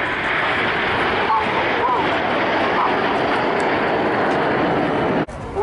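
RAF Red Arrows BAE Hawk T1 jets pass over Blackpool Airshow with a steady, loud broadband jet roar that holds throughout, then briefly drops near the end as a commentator speaks over a public address.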